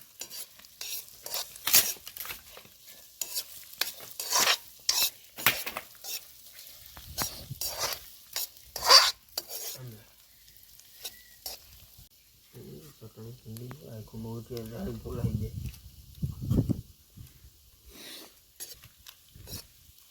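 Potatoes frying in a pan for batata poha at an outdoor farm gathering, with soft sizzling and intermittent scraping stir strokes, and someone talking at times over the cooking.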